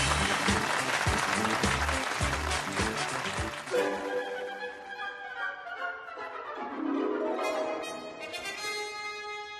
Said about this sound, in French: je crois vraiment qu'on peut s'applaudir